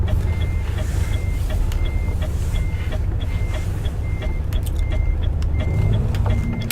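Repeated reversing beeps from a vehicle manoeuvring near boxes and pallets during a Tesco delivery run, a steady series of evenly spaced electronic tones over a constant low engine rumble.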